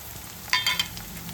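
Cabbage and capsicum stir-frying in a pan for Manchurian rice, a steady low sizzle broken by a few sharp clatters of the spatula tossing the vegetables.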